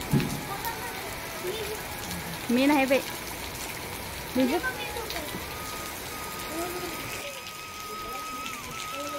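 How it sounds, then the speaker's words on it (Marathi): Steady evening rain hisses all around farm fields, dense and continuous, while a few short voices speak briefly over it. "आणि पाऊस पडायला लागलाय आमच्या इकडे"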